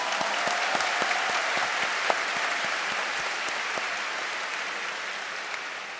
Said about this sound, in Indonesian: Operasi tepuk tangan.